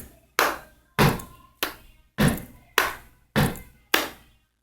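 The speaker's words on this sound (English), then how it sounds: "your feet would hit the ground on beats 1 and 3, and your hands would clap on beats 2 and 4" Gospel shout-music rhythm from feet stomping the ground on beats one and three and hands clapping on beats two and four: eight sharp, evenly spaced hits, close and dry, with no voices.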